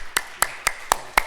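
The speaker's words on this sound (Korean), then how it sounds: "하나님께 박수의 영광을 드리겠습니다" Applause from a church congregation during a Sunday morning service comes as five crisp, evenly spaced claps in steady unison, near and fairly quiet.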